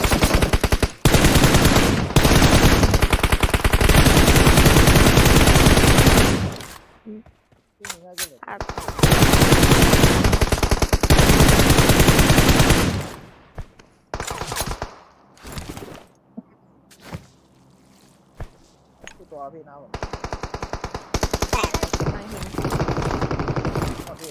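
PUBG Mobile gunfire on Miramar: long, loud bursts of rapid automatic fire, then a sparse stretch of single shots and pauses, then renewed bursts near the end, all close and dominant.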